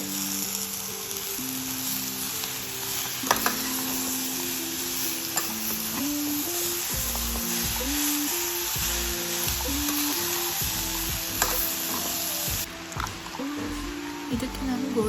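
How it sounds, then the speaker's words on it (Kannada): Tomatoes and other ingredients for green chicken masala sizzle and fry in a pan with steady crackling, while soft background music plays and a voice talks over it. "ಫ್ರೈ ಮಾಡ್ಕೊಳ್ಳಿ."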